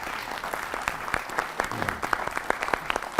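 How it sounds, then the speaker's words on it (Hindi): An audience claps to welcome a guest at an event, with dense, sharp individual claps coming close and steady throughout. "एक बार जोरदार तालियों के साथ हम उनका स्वागत करेंगे।"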